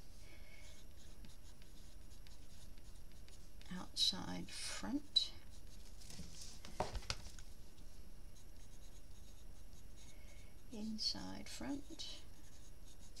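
A blunt pencil scratches across paper in short bursts while a person talks quietly over it, close and soft.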